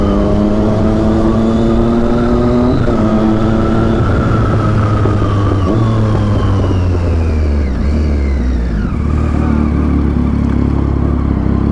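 A KTM Duke superbike with a quick shifter revs loud and close, its engine climbing through several rising pitch sweeps with abrupt shift breaks, roaring steadily with no talk.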